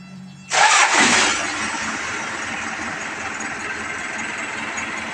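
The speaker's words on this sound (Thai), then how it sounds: "เอามาฟังเสียงเครื่องกันเลยครับ" An Isuzu NKR 110-horsepower six-wheel truck engine cranks and catches abruptly, surges loudly for a moment, then settles into a steady, even idle close by.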